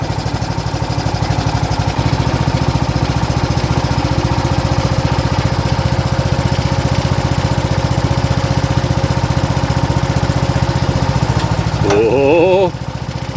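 The engine of a neglected 1970s John Deere 212 lawn tractor that hasn't run in years runs loud and close at a steady, throbbing idle with choke on. Near the end a brief warbling whine rises above the engine.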